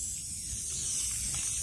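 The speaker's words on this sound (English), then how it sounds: "I need to get some spray paint to bring this thing right back to its natural, pretty yellow glory" A spray paint can hisses in one continuous burst, close and steady, as paint goes onto a table.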